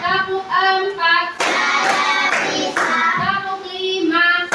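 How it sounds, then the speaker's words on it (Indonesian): Children clap their hands in a short counted series, sharp bursts clustered in the middle of the clip while young voices chant rhythmically over and around them. "Tepuk 1, tepuk 2, tepuk 3, tepuk 4"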